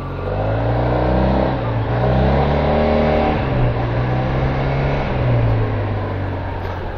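SYM Maxsym TL 508 motorcycle accelerating hard on a test ride, the engine note rising in pitch through several revving surges, loud and close with steady wind rush.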